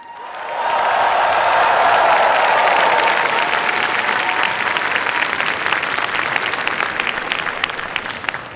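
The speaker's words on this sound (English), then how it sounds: "now it's your turn to clap and cheer as loud as you can" Graduates at a 2024 computer science and engineering graduation celebration burst into sustained applause with cheering, building quickly and staying loud and dense across the hall for several seconds.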